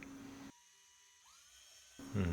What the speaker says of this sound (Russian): весь процесс сборки тут заключался в закручивании нескольких саморезов